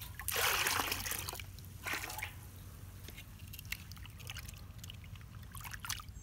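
Pieces of quail meat are rinsed in a bowl of water in a village kitchen, giving splashing, sloshing and dripping sounds, loudest at the start and then softer, intermittent trickles.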